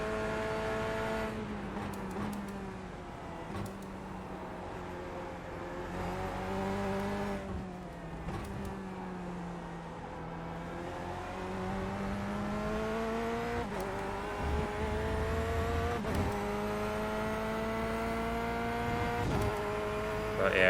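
Corvette C8.R race car engine in iRacing, heard from the cockpit: a continuous high-revving race engine climbing and dropping through gear changes and corners, loud and close, with no talk.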